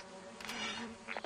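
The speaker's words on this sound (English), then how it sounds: "Fucking stupid bees." Bees in the video game Lethal Company give off a short, faint insect buzz with a few brief rising swells.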